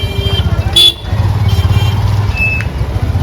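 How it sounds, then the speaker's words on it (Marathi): A motorcycle being parked: a close, throbbing idle rumble with a brief horn-like tone near the start, running steadily throughout. "तिला आता गाडी लावत आहे."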